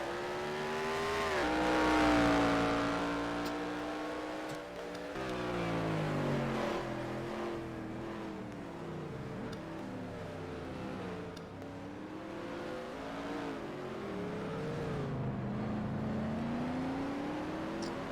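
Race car engine in a community racing video game at the YES! Marina track, revving and whining through rising and falling gear changes, sustained and steady with no talk over it.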